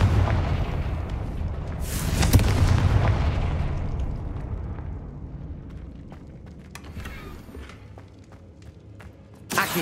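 Confringo spell explosions in the video game Hogwarts Legacy, heavy booming blasts with rumbling low end, the strongest burst early and a sharper one at the very end, with no talk over them.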